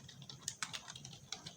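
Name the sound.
typing on a computer keyboard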